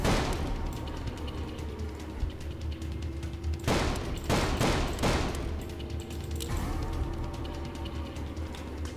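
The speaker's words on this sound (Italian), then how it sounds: "con la mossa speciale, con la raffica di spari." Gunfire in the video game Call of Juarez: a continuous rattle of shots with a tight cluster of louder bursts in the middle, no one talking.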